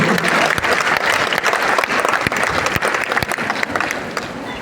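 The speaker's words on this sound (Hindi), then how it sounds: "अपने जगह में खड़े होकर आज की महागुरु के लिए एक बार जोरदार ताली हो जाए।" A standing audience at a wellness motivational gathering breaks into loud, dense applause, the claps packed into a continuous roar that carries on without letting up for several seconds.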